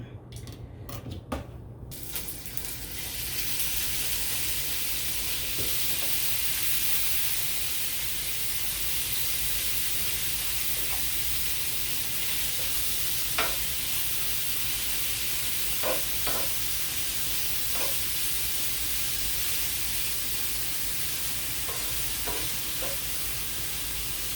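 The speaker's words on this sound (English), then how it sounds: "We're just frying it up." Bacon sizzles steadily in a hot pan, a loud continuous crackling hiss with a few sharper pops and an occasional clink of a utensil.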